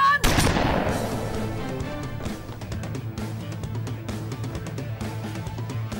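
A sharp loud gunshot opens a staged shootout in a Turkish police TV drama, followed by rapid crackling bursts of automatic gunfire and echoing shots over a low rumble.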